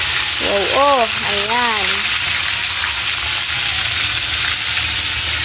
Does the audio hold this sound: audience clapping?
no